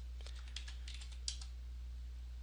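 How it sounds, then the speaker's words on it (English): Soft keystrokes on a computer keyboard in short bursts of a few taps, fairly quiet against a steady low electrical hum. "I'm just typing in every 500 pips."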